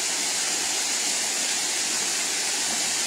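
A hidden waterfall in a river roars as a dense, steady hiss of falling water that stays constant and loud throughout, with no voices.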